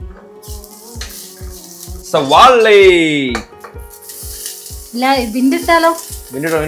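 Oil sizzles and crackles steadily as bay leaves fry in a pan, with a person talking loudly over the cooking throughout.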